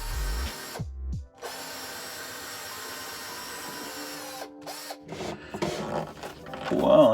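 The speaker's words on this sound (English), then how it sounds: "now we're gonna drill some mounting holes" A power drill bores mounting holes for a Jabsco pump aboard a sailboat, a loud sustained whine that starts and stops in bursts and strains toward the end, close to the microphone.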